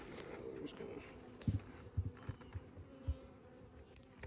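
Honey bees buzz steadily around an open hive during beekeeping, a continuous insect hum close by, broken by a few soft thumps from handling the hive.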